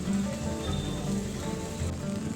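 Monsoon rain falls steadily in Jangipur, a dense, even patter of drops on surfaces at moderate loudness for the whole moment, with no voices.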